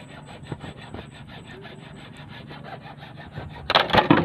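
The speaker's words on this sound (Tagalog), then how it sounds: "puputulin na lang namin dito ng lagari." A hand saw cuts through a water pump pipe in steady, rapid back-and-forth rasping strokes at close range. The strokes grow louder and harsher near the end.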